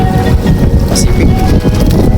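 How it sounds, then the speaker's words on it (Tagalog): Strong southerly wind blowing across the open Pacific at a fishing ground off Isabela, 120 miles from Baler, Aurora, a loud steady roar buffeting the microphone throughout with the wash of the sea beneath. "Ang hangin ay salatan."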